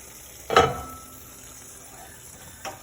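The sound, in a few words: stirring chicken corn chowder in a pot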